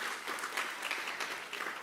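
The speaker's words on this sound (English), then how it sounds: "I won't stop you from clapping if you want to keep doing that" Audience clapping at a digital health conference, a dense, steady wash of applause filling the whole stretch at even loudness with no voices on top.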